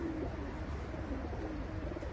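Pigeons or doves coo steadily at an animal market in Fujairah, over a dense, constant background of market noise.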